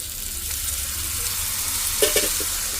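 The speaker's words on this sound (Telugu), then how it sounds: "వీటిని కూడా బాగా ఫ్రై చేస్తాను" Snails sizzling in a pan with ginger-garlic paste, a steady hiss of frying with a few brief clinks of stirring near the end.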